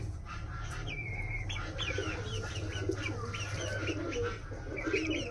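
Pigeons coo repeatedly in a domestic loft, soft rolling calls in a steady rhythm over a low background hum, close by.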